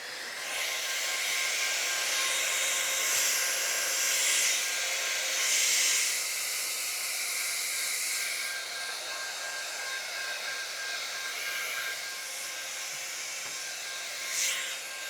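A blow dryer hums with a steady airy hiss as it dries watercolor paint on a sunflower painting, running continuously for about fifteen seconds with small shifts in tone.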